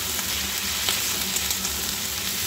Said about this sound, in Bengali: এবার আলু ফুলকপিটা ভেজে নেব।